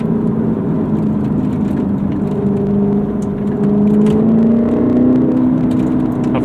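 A Corvette C7 Grand Sport engine blips and revs during a rev-matched downshift, a loud, steady mechanical drone that swells and climbs in pitch without any talk over it.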